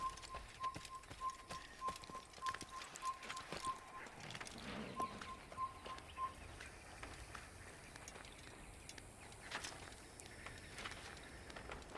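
Horse hooves clip-clop in Assassin's Creed, a steady trotting rhythm that runs throughout over game ambience, with a short repeated tonal beep heard twice early on and no one talking.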